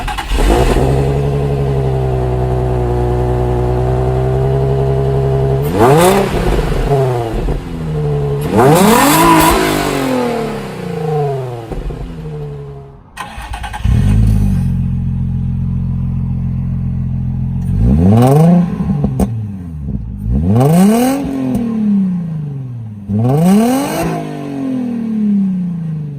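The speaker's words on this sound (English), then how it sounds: "it sounds so much better with the new muffler delete" A Nissan 350Z with a muffler-delete exhaust revs loudly and up close, settling into a steady idle drone between repeated throttle blips that rise and fall sharply, with a brief dip before several more quick revs.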